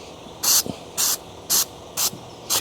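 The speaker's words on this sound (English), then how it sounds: "I'm going to try to get it sprayed evenly all around with a light coating of this rubber spray" Rubber coating spray can spraying a knife, five short even hissing bursts about half a second apart, close and loud, with quiet handling between.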